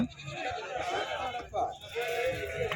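Goats and sheep bleat at the busy Mudigubba weekly livestock market, several close nasal cries rising over crowd chatter and people talking nearby.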